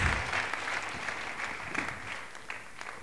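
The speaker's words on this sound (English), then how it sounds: "Let's give them another round of applause." Steady round of applause from a church audience for the singers, dense clapping filling the whole stretch at moderate level, with a faint voice briefly audible.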